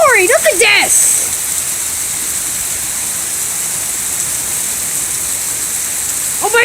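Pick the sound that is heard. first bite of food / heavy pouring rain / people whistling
heavy pouring rain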